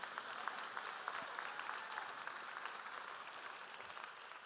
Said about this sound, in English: yeah, that's right, clap again.